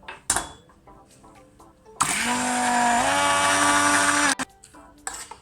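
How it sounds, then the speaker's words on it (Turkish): A blender roars loudly for about two seconds pureeing boiled spinach with milk, its motor pitch dipping slightly as it churns, framed by clinks and bumps before and after. "haşladığımız ıspanakların üstüne yarım bardak süt ekliyoruz ve blenderdan geçiriyoruz püre haline getiriyoruz"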